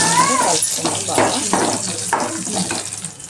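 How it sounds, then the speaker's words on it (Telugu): Whole spices, including cinnamon stick and star anise, sizzle in hot oil while a spoon stirs and scrapes the pan in repeated strokes, close and moderately loud, with a voice speaking over the cooking. "నెక్స్ట్ బండా పువ్వు, నెక్స్ట్ దాల్చిన చెక్క వేసి కలుపుకున్నామండి"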